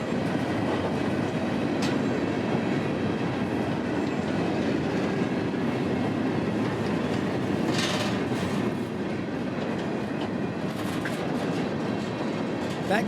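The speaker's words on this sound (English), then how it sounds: "B315 would be crawling out of Rockport and onto the main line" A CSX freight train, B315, hauling a string of 68 empty cars out of Rockport onto the main line in Florida's Bone Valley, passes as a loud, steady rumble and clatter of wheels that holds for the whole stretch.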